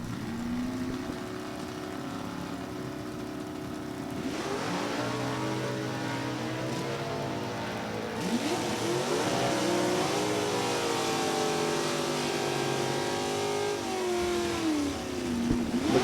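Super Stock drag race with a 428 Mustang facing a small 316 cubic inch Chevrolet-powered Camaro, engines roaring steadily and swelling in pitch as the cars accelerate down the strip, loud and continuous throughout.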